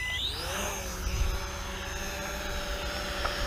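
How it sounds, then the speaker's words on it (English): A JJRC H73 camera drone spools up and takes off, its propellers whining in a steady high buzz with rising tones, close to the microphone. "let's go ahead and let's take this guy up"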